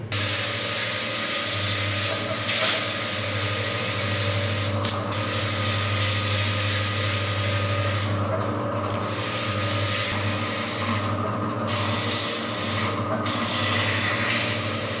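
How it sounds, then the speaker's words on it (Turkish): Steady abrasive rubbing of sandpaper on puttied wood, a continuous gritty hiss with a low hum beneath, broken by a few brief pauses. "Şimdi de macunladığımız yerleri zımpara yapacağız ki pürüzsüz olsun üstü"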